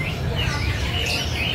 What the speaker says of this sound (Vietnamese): các bạn nghe chim kêu không